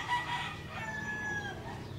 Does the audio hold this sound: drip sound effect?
no